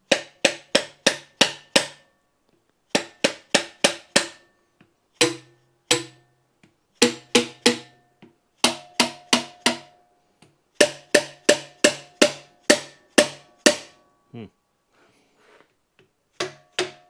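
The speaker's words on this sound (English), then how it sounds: "Take my dead blow hammer here. We can tap each one of these valves and see what we got." A dead blow hammer taps the valves of a Dodge HP 440 engine from a police car, the valves showing surface rust: sharp knocks in quick bursts of four to six, separated by short pauses, close and loud.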